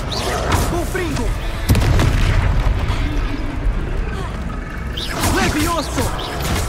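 Confringo blasting spell in Hogwarts Legacy: two heavy booming blasts, one near the middle and one toward the end, erupt over dense game noise while a player talks.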